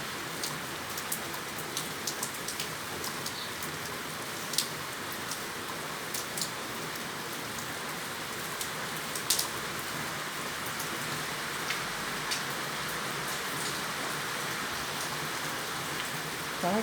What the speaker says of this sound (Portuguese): Choveu o dia inteiro,